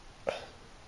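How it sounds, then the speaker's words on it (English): A short, abrupt burp during commentary on a Madden 21 Colts franchise game, a single throaty burst standing alone over faint background noise. "yes, perfect burp."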